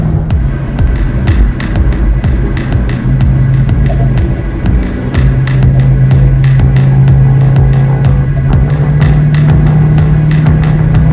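A 2009 Shelby GT500 King of the Road cruises along a highway, its engine droning loud and steady from inside the car, with a sustained low hum that rises slightly in pitch midway and regular ticking clicks over the top.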